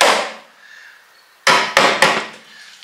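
A small hammer taps three times in quick succession, sharp close knocks, after a louder initial strike that fades out, while working on a Renault Kangoo alternator.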